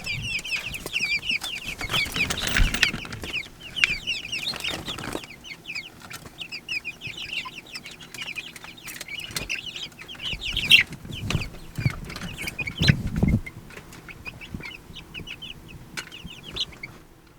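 Chickens, with guinea keets among them, cluck and chatter steadily nearby on a farm, with bursts of busier clucking from several birds and occasional rustling and bumps in the background.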